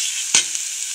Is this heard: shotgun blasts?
no